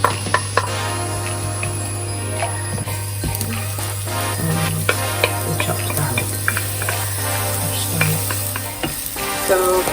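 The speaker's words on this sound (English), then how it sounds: "Add the chopped red onions to the pan." Chopped red onions fry in about a tablespoon of olive oil in a pan over fairly high heat, giving a steady, loud sizzle with occasional stirring scrapes and a constant low hum behind it, no voices.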